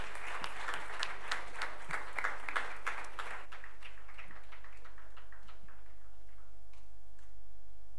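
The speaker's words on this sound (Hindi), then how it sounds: "तो उनके लिए बहुत यानी अच्छी ताली दीजिए।" Audience applause at a Padma Bhushan Dr. N. Rajam performance at MITS Gwalior: dense clapping from a seated crowd for about three seconds, then thinning into scattered claps that fade out.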